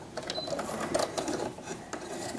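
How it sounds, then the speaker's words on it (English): A sewing machine runs steadily while stitching quilt pieces corner to corner along a marked line, a close, fast mechanical whir with small ticks and clatter. "So now I'm going to sew this one, again corner to corner. I've marked it, and I'm going to just stitch along my marked line."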